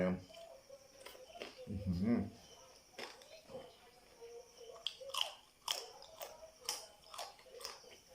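Someone chews crispy grilled pork ribs with skin, making close crunching and biting sounds with a heavier crunch early on, mixed with intermittent speech.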